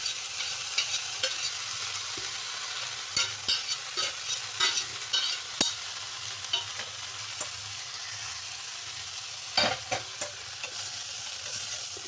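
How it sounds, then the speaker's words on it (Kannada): Cooked horse gram goes into a hot pan for a traditional horse gram bassaru and is stirred, giving a low sizzle under repeated scraping spoon strokes that come in irregular bursts, close by, with no talk. "ಕಾಳು ಹಾಕೋಣ, ಬೇಯಿಸಿಟ್ಕೊಂಡಿರೋ ಕಾಳು"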